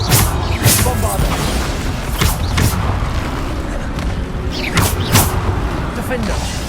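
Blasting-spell explosions and combat impacts from the video game Hogwarts Legacy, several loud booms and thuds bursting out in quick irregular succession, dense with clattering battle noise and voices throughout.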